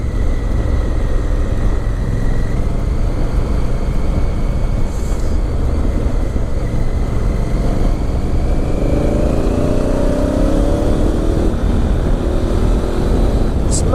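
A 2017 Honda Africa Twin motorcycle rides along a bumpy country lane, its engine drone and wind roar steady and loud throughout, with slight pitch shifts as the speed changes.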